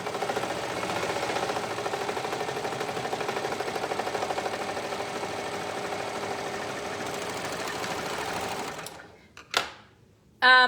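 A serger sewing machine runs steadily as a seam is re-sewn, a close, continuous rapid stitching whir lasting about nine seconds before stopping, followed by a few short clicks and handling knocks.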